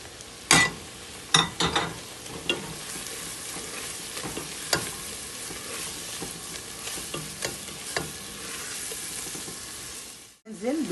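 A large chopped onion hits hot oil with garlic in a pan and fries with a steady sizzle, broken by loud clinks and scrapes of stirring, ending with a brief whoosh.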